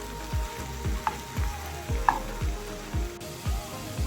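Tofu cooks in a pan with a steady, low sizzle, while a regular pulsing pattern of stirring or pan movement repeats about every half second, close and moderately quiet, with no voices.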